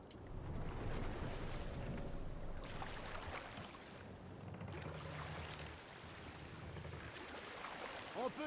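Wind and rolling ocean waves surround a Viking sailing ship in the video game Assassin's Creed Valhalla, a continuous rushing wash that swells and eases, with no voices over it.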